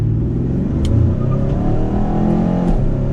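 A Hyundai Sonata N Line's turbo engine revs hard under acceleration in Sport Plus, its loud, close drone climbing and dipping as it makes quick dual-clutch shifts from second to third.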